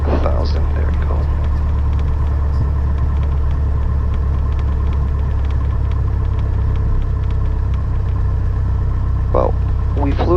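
Piper Cherokee 180 aircraft engine, newly installed, idles at about 1,000 RPM with a steady low throbbing rumble close by, brief faint sounds rising over it near the start and end.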